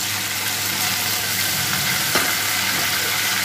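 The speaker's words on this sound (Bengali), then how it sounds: "পেঁয়াজ রসুনটা একটু ভাজা ভাজা করে নেব।" Loud, steady sizzling of onion, garlic and ginger paste frying in a pan, a dense continuous crackle close up with a faint stir partway through.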